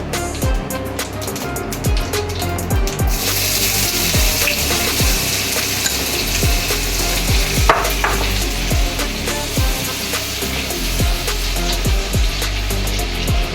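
Chopped onion and whole cumin hit hot oil in a pan for a mutton curry, setting off a loud, dense, continuous sizzle. Repeated scraping stirs run through it, with no talking.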